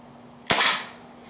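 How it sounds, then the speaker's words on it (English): A Crosman 2300KT air pistol fires a single sharp crack at a can, a bright broadband snap followed by a short decaying ring, close and loud against a quiet background. "I'm gonna shoot the bottom of the can"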